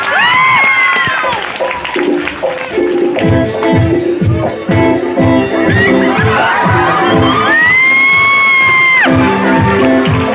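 A big round of clapping and cheering from an audience at a stage event, loud and steady throughout, with shouts and whoops rising above the applause and a voice heard over the crowd.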